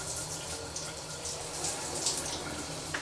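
Shower water runs steadily in a bathroom as a person is washed, a continuous hiss of spray with no pauses, close and moderately loud.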